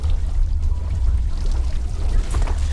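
Water in the video game Animal Company, a steady loud rushing, pouring wash with low churning rumble that continues without a break and carries no talk.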